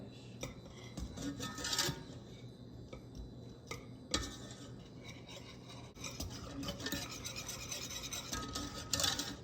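A whisk scraping and rasping through chocolate cream pie filling and milk in a bowl, irregular bursts of rubbing strokes with brief clinks against the side, close and moderately loud with no talking.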